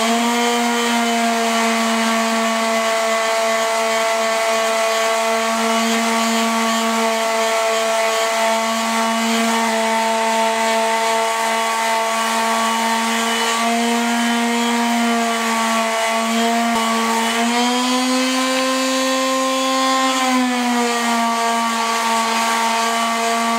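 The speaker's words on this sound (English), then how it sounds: "I still got a lot of sanding to do." A power tool sands a softwood heart carving, its motor holding a loud, steady whine throughout with a brief dip and rise in pitch near the end, no voices.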